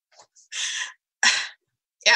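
A person deliberately lets out loud, exaggerated sneezes during a tabletop role-playing session, with two strong bursts and a quicker third one starting at the end, each separated by short silence.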